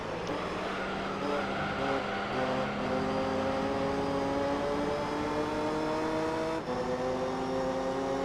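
Racing car engines in Gran Turismo 3 drone steadily, with a Mazda RX-7 and a Supra side by side, one engine's pitch slowly climbing under acceleration before a brief dip at a gear change, loud and continuous.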